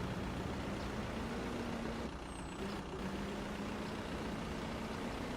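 A steady turbo diesel truck engine in a top-down delivery video game drones at a constant pitch, with a faint high turbo whine appearing briefly; no voices.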